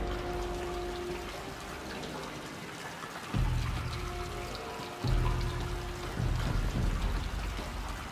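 Flowing, pouring water in Horizon Zero Dawn: The Frozen Wilds, a steady splashing trickle that swells louder in surges partway through, with no talk over it.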